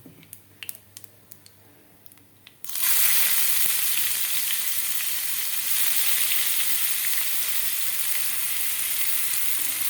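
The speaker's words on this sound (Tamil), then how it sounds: "வெங்காயத்தை போட்டு வதக்கிடலாம்" A loud, steady sizzle of onions sautéing in a hot pan starts abruptly after a few quiet seconds with small clicks, then continues evenly without speech.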